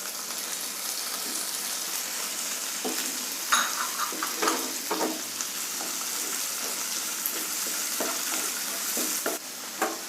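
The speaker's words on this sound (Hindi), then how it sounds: "और साथ साथ में हम इसको भी घुमाते रहेंगे, जिससे कि हमारी भिंडी जो है नीचे से जल ना जाए।" Onions and tomatoes with okra fry in a pan for a spiced Indian bhindi dish, a steady sizzle running throughout as a spoon stirs and scrapes at intervals, close and fairly quiet, with no talking.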